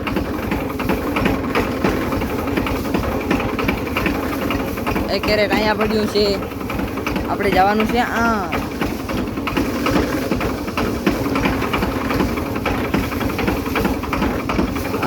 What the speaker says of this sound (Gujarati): ટ્રેક્ટર લઈને નીકળી ગયા છે બગીચામાં કેરેટ ભરવા.